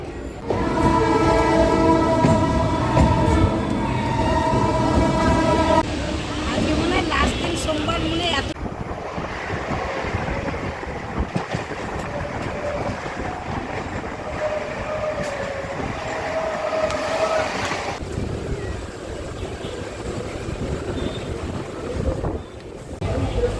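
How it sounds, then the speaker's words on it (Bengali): A train bound for Tarakeswar pulls in to platform 1 at a station. A long, loud horn blast opens the sound, followed by a heavy, continuous rumble and rattle of wagons with wind buffeting the microphone. "তারকেশ্বর যাওয়ার ট্রেন এখন আসছে 1 নম্বরে।"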